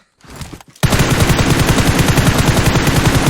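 Rapid automatic gunfire in an online battle royale shooter match, a loud close burst of many quick shots after a brief quieter lead-in, with no speech.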